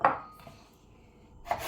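A knife chops food for a fish parmentier on a board, two crisp cuts spaced over a second apart, close and quiet with no talking.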